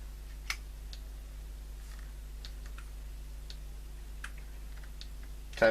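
Sparse, irregular key clicks from a computer keyboard, a few isolated taps spread out over a low steady hum, with a louder clack at the end.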